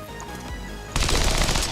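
Pistol fire in the video game XCOM 2, a sudden burst of close gunfire cutting in after a quieter stretch of game ambience and lasting to the end, with no talking.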